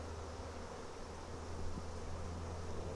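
Honey bees buzz around an opened beehive during a hive split, a steady, soft, continuous drone with a low hum underneath and no speech.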